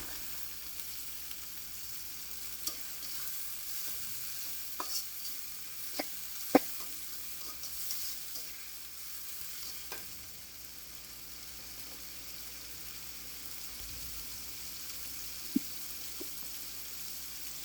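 Spices and dried shrimp lightly frying in a pan give off a soft, steady sizzle, with scattered clinks of stirring across the clip. No one talks.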